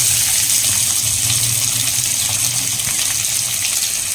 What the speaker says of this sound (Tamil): ஆயில் வந்து ஹீட் ஆகிடுச்சு. ஆனியன் வந்து சேர்த்துக்கிறேன்.